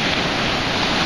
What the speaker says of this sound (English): But look at the waves.